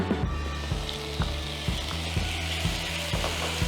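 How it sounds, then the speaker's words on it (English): Potatoes with yellow capsicum in a frying pan, a steady sizzle under a run of sharp, evenly spaced clicks and clacks, close and fairly loud, with no one speaking. "we are going to add in our yellow capsicum"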